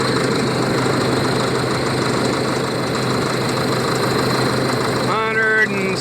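A Caterpillar D7E bulldozer engine runs at a steady idle with a low, even rumble and faint vibration. It stays loud and constant throughout, and a brief higher tonal whine rises near the end.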